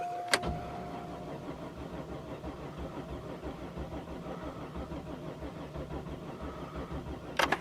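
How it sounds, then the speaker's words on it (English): A steady low mechanical whir from a car's fuel pump runs throughout, with a couple of sharp clicks at the start and end. "I hear the fuel pump working though"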